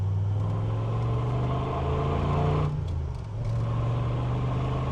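Supercharged 600-horsepower Mercedes G55 cabriolet with a manual gearbox accelerating, a loud low engine drone that climbs steadily, dips briefly as if shifting gears, then pulls hard again, heard from inside the car with no talking.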